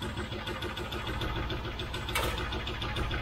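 Rover V8 engine idling steadily close by, with a fast, even ticking from worn hydraulic tappets running through the low rumble the whole time.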